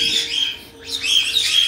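A pet bird in an indoor bird room chirps close by in bright, high, repeated tweets, with a short lull in the middle before the calls pick up again.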